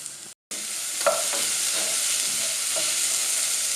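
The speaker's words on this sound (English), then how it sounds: "The onions have had about 5 minutes on a sort of medium heat stirring" Onions frying over medium heat in a pan, a steady close sizzle broken by a few scraping stirs of a utensil after a brief moment of silence near the start.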